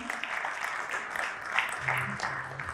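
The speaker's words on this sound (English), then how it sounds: "let's give them a big round of applause in our entirety" Audience applause for a panel at a realty conclave and awards event in Pune, steady moderate clapping heard at some distance, with a voice briefly audible partway through.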